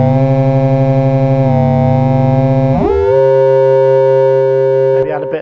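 Dreadbox Erebus 3 synthesizer oscillators cross-modulated by FM, a loud sustained buzzing tone that shifts pitch in steps and sweeps upward partway through, then holds a bright steady drone before a brief glitchy break at the end.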